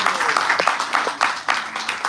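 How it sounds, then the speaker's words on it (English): Applause from an audience at a devotional talk, scattered claps repeating through the clip at moderate loudness, with a voice heard faintly underneath. "let's give a big round of applause."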